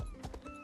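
Horse hooves in the Elder Scrolls Online video game inside a tavern, a few quick, soft clops over a faint background hum, very brief.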